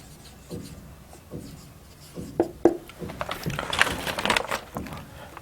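Marker or chalk writing on a board during a physics lesson, with soft scratchy strokes and squeaks that grow busier toward the end, alone without talk.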